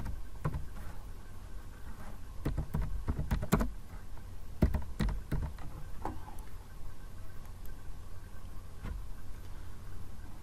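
Keys on a computer keyboard clatter in short bursts as a search is typed, close clicks bunched in the first half and then a few spaced taps over a steady background hum.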